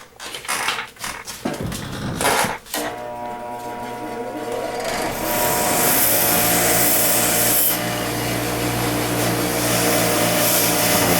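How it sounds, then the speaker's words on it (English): A wire wheel strips paint off a Hot Wheels 1963 Chevy II die-cast body: scattered scraping and handling noises at first, then a loud, steady whirring grind that keeps going to the end. "Wire wheel action."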